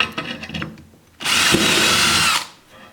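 A power drill bores holes through a steel plate and into the bottom of a metal box, a single loud high whine lasting about a second after some quieter handling noises.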